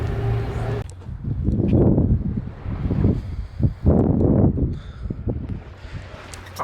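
Gusty wind buffets the microphone on the east harbour arm of a seaside marina, coming in rough, uneven rumbling bursts with a brief lull early on.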